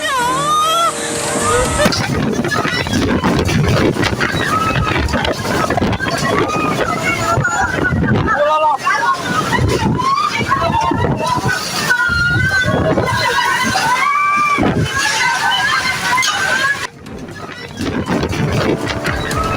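Loud, continuous tornado-strength wind roaring and buffeting close to the microphone in Pekalongan, Central Java, with a steady rushing noise and a brief dip near the end.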